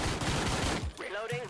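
Rapid bursts of gunfire ring out in the co-op police game Door Kickers: Action Squad, dense automatic shots filling the first second before a voice speaks.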